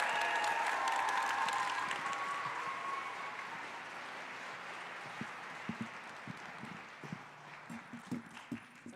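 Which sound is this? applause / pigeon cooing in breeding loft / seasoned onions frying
applause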